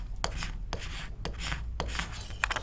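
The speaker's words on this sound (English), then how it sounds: "Use my tool to scrape it and get it up." A tool scrapes vinyl contact paper against a wine glass in a series of short rasping, rubbing strokes, four or five passes close to the microphone, with a small sharp tick near the end and no voices.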